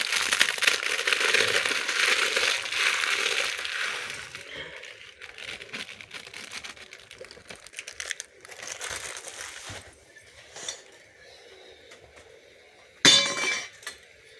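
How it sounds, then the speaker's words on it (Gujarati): Instant Maggi noodles are crushed before going into the pot, with crisp crinkling and crunching up close at first, then quieter rustles and a sharp clink near the end. "હવે મેગી આપણે ભૂકો કરીને નાખી દઈએ."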